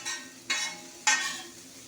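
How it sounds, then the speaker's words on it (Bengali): Vegetables with green chillies stir-fried for chowmein in a food shop: a steady sizzle broken by three distinct spatula scrapes and tosses in the pan, up close and without any voices. "কাঁচা লঙ্কা দিয়ে ভাজা হচ্ছে"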